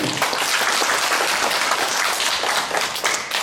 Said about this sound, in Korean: 예, 박수 한번.